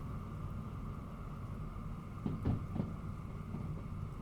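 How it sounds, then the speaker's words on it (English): Steady rain falls over a railway scene in the train simulator Derail Valley, a constant broadband hiss with a low rumble, and a couple of brief louder thuds around the middle, alone without talk. "the rain is not helping"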